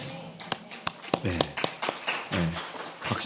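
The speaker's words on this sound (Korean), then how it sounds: "박수가 그냥 나오죠." Scattered sharp hand claps ring out irregularly during a church worship service while a voice talks over them.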